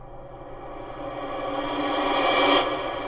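A washy reversed synth tone swells steadily over three seconds to a peak, then cuts off abruptly, its reversed attack smeared in heavy Valhalla Supermassive reverb.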